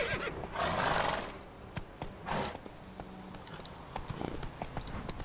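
A horse whinnies loudly twice in The Witcher 3, the second neigh shorter, with hoof clip-clops and faint game-like background noise in between.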